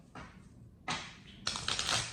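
Tarot cards are shuffled in short riffling bursts, three of them, each busier than the last, with the final one a dense, close flutter of card edges. No voices are present.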